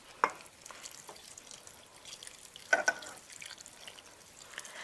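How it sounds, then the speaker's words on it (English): Bouillon and tomato paste water poured over grape vine leaves in a pan, with faint liquid splashing and a few soft drips and patters, two brief louder splashes standing out against low background hiss. "So I'm going to pour it all over the grapevine leaf."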